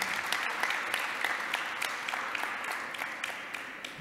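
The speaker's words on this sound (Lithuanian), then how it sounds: "dabar svarbi akimirka, mūsų aplodismentai ir įamžinkime šią akimirką." An audience at a green transport awards ceremony claps steadily, a dense, fairly close round of applause that tapers slightly toward the end.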